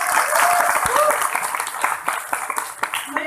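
An audience claps at a product presentation: a steady wash of applause that slowly thins into scattered individual claps, with a voice speaking faintly underneath.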